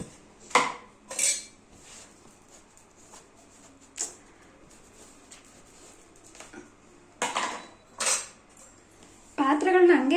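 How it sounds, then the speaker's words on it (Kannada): Kitchen dishes being wiped dry and stacked in a home kitchen: sparse, sharp clinks and clatters of utensils knocking together, separated by quiet gaps, with a voice starting to talk near the end. "ಸೊ ಪಾತ್ರೆ ಎಲ್ಲ ನೀಟಾಗಿ ಒರೆಸ್ಬಿಟ್ಟು ಇಟ್ಕೊಬೇಡೋಣ"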